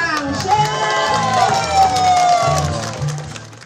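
A crowd claps and cheers at a plaque unveiling ceremony for a rural farmers' association green care station, elders and local officials present, with whoops and shouting over continuous applause.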